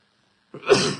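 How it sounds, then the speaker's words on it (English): A single sharp sneeze bursts out after a moment of silence, close and fairly loud, trailing off quickly. "I got a sneeze coming."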